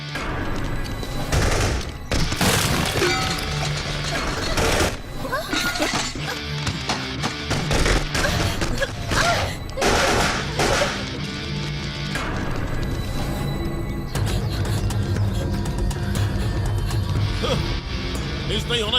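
Rapid gunfire bursts crackle and crash through a dense, loud action-film battle scene, shots tumbling over one another with breaking and smashing debris, layered under music and shouted voices.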